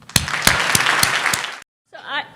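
A short burst of audience applause for an award winner at a developmental biology society ceremony, a few loud separate claps that cut off sharply before a voice begins speaking.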